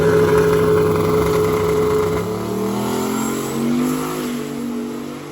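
A Chevrolet Nova drag racing car at the Mid track launches and pulls away down the strip, a loud engine roar with rising pitch that fades slightly as it gets farther off, heard alone without talk.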